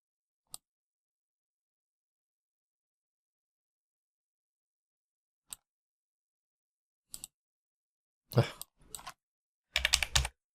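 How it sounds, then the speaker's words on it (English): Typing on a computer keyboard comes as a few isolated key taps separated by long silences, then two short bursts of rapid, close clicking near the end. "Easier to type it in."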